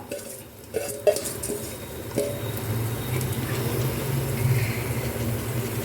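Rice being stirred into a pan of vegetable biriyani, with scraping spoon knocks and a few sharp clinks against the metal over a low steady background rumble; no talking.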